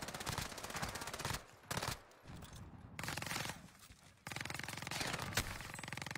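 Automatic gunfire in a multiplayer shooter video game, loud and sustained in long rapid bursts with brief pauses between volleys, heard alone without talk.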